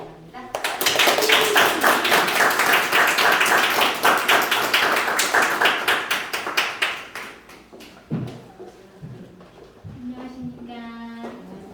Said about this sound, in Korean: 배수영 강사님 나오시면 큰 박수로 맞이해 주시기 바랍니다